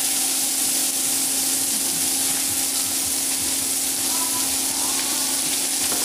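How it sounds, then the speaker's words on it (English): Quartered mushrooms and peppers sauté in a pan for chicken stroganoff, giving a constant hissing sizzle with a faint steady hum underneath, close and unbroken, with no talking. "this is sauteing nicely"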